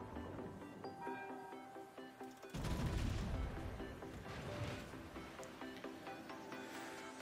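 World of Warships battleship gunfire from the French Tier VIII premium battleship Champagne: a heavy salvo booms in mid-clip, a broad low rumble that lingers and fades over game music and ambient tones.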